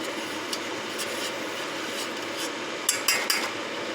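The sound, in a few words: stirring old-fashioned oats in a pot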